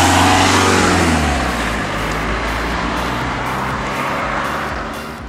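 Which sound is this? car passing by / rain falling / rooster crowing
car passing by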